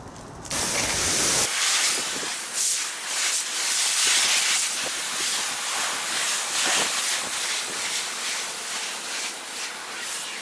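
Steady hiss of water spray rinsing a black Audi car in the sun, a continuous close wash of sound lasting throughout after a brief start, with no talking.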